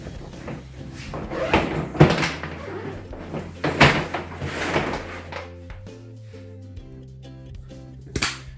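Samsonite Cosmolite four-wheel spinner suitcase being opened, with a run of close plastic clicks, knocks and shell handling sounds, a louder thump near the middle and a sharp snap at the end, no talking.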